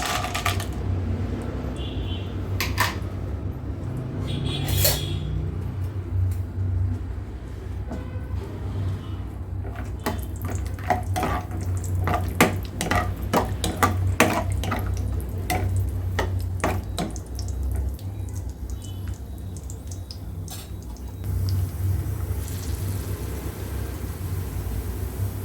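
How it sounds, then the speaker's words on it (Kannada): Cashews and raisins frying in hot ghee for sweet pongal, a low steady bubbling sizzle with scattered crackles and pops, plus occasional spoon clicks against the pan, close and continuous throughout. "ಇದಕ್ಕೆ ಗೋಡಂಬಿ ದ್ರಾಕ್ಷಿ ಹಾಕಿ ಫ್ರೈ ಮಾಡ್ಕೊಳ್ತೀನಿ"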